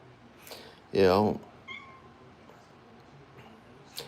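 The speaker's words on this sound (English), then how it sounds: "What are you doing, Calco Kitty?" A domestic cat, old and in hospice care, gives one loud, close meow lasting about a third of a second in an otherwise quiet room, with faint background noise before and after.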